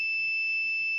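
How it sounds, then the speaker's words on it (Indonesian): A flood detector's buzzer, built as a microcontroller project, sounds one steady, piercing high tone that holds loud and unbroken for the full second, with faint low rumble beneath. "Nah, maka buzzer akan mengeluarkan suara yang keras seperti itu."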